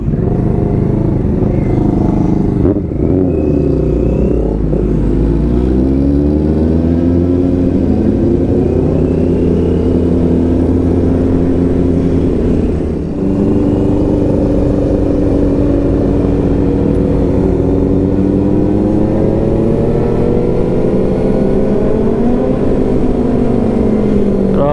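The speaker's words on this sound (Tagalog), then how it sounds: "motor ni Kuya Jun." A motorcycle engine drones loudly and steadily on a night ride, its pitch rising and falling as the rider shifts through revs, with wind rush and some faint voices underneath.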